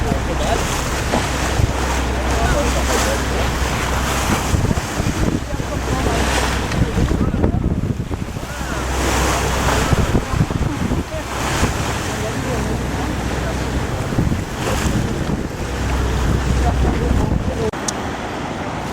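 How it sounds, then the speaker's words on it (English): A boat crosses the open Mediterranean Sea, with constant rushing wind buffeting the microphone, washing waves and a low engine drone, all loud and close without a break. "The open Mediterranean Sea."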